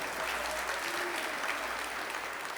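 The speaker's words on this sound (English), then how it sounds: "please thank him with a huge round of applause" Applause from a seminar audience thanking a session speaker at a tax refresher course, a dense steady wash of clapping heard at a moderate distance, even throughout.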